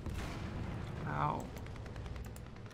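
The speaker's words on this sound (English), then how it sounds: "I shot the front of a T-34 and it just didn't die" Tank cannon fire in the War Thunder video game comes as one muffled, rumbling boom that swells and fades midway through, fairly quiet, with faint game noise and voices around it.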